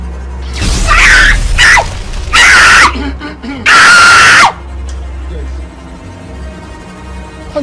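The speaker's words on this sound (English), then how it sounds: "How are you screaming?" A woman screams loudly in several long, piercing bursts, with brief pauses and low rumbling between them, followed by quieter background tones.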